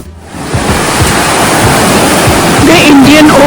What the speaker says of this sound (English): I'm going to show you more of the sea and the waves